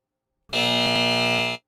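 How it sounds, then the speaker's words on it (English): A single loud electronic buzzer sounds for about a second after silence, harsh and steady, then cuts off abruptly. "Lou, hit the buzzer for me, please."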